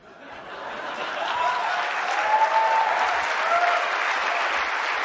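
Sustained audience applause at a live talk, rising over the first second into a dense, steady wash of clapping from a large crowd, with faint laughter mixed in.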